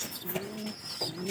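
A pigeon coos softly in a few short, breathy phrases, close by and alone, with no talking over it.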